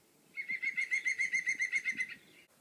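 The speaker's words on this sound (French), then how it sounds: "C'est le son d'un oiseau." Birdsong from a forest setting: a single bird repeats a bright, even trill of about fourteen quick chirps in a steady rhythm, clear and fairly close, with faint low rustling underneath and no voices.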